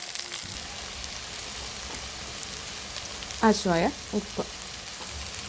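Chopped okra, onion and green chillies sizzle in a pan after mustard seeds, a steady, fairly quiet frying hiss running throughout, with a short stretch of speech over it.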